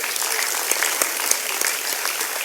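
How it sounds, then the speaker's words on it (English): An auditorium audience at an academic inauguration ceremony applauds the guest of honor, a loud, bright, continuous wash of clapping with a few sharper individual claps standing out. "please join your hands and give a thundering applause to our guest of honor, Director Sir, Professor Dr. Nitin M. Nagark"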